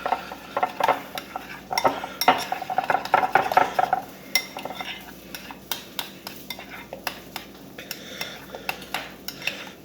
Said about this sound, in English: And then we're going to mix that some more.